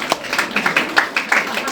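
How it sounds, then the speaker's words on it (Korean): A church congregation claps during a Sunday worship service, a quick, uneven patter of hands lasting under two seconds, fairly close and moderately loud. "박수 한번 하겠습니다."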